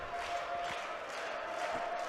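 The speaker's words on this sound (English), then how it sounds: "All of their fans standing up and clapping in the Covelli Center." BYU fans standing and clapping at match point of a men's college volleyball match against Ohio State in the Covelli Center, a steady dense wash of crowd noise and cheering from a distance with no clear individual claps.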